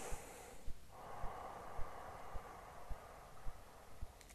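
One slow, soft breath drawn in close during a quiet meditation exercise, a drawn-out airy hiss over a hushed room, with faint regular low taps in the background.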